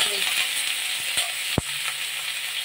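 Pork hits hot cooking oil in a pan for sautéed chayote, and a bright, continuous sizzle follows, with one sharp knock and light scraping from stirring, heard up close.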